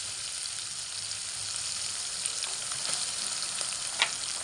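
Onions frying in a pan for green peas curry give a steady, close, broadband sizzle with a few brief crackles and pops, with no talking.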